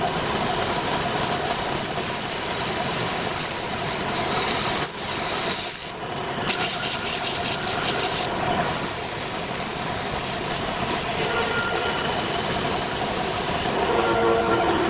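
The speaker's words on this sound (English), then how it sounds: "Gonna come in and start sanding it. We use 2 different grits, plus a 4/0 steel wool." A wooden duck call sanded by hand with sandpaper, a steady continuous rasping scrape that runs loud and close throughout with only brief pauses.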